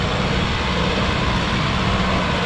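A Kubota MU5501 55 hp four-cylinder tractor engine running steadily, a continuous broadband drone with a low throbbing rumble, close and even in level throughout with no pauses.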